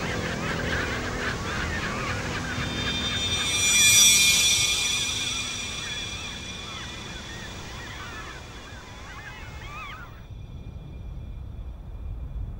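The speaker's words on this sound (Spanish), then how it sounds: "Península Valdés ha acogido también a las aves más adaptadas a la vida marina del mundo, los pingüinos." Penguin colony calling at Península Valdés, with dense overlapping honking and braying cries over a steady coastal wash, one call swelling loudly near the middle before the chorus thins.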